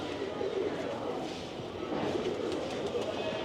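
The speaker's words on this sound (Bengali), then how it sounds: "এই যে দেখেন এখানে জালালি কবুতর আছে" Jalali pigeons coo softly amid a steady outdoor murmur at the Shah Jalal shrine in Sylhet, their low throaty calls blending into a busy ambient background.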